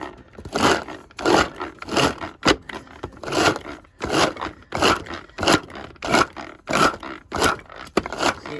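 A manual onion chopper container being pumped to chop onions, giving a series of rhythmic scraping, crunching strokes about twice per second, loud and close with no talking.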